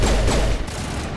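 Assault rifle fire in the Mass Effect video game rattles off in a rapid, loud burst of shots, trailing into a rumbling tail.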